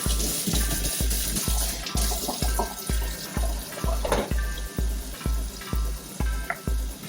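Water splashes and runs while an aquarium filter is rinsed, with rhythmic scrubbing or squeezing sounds repeating about twice a second, close by.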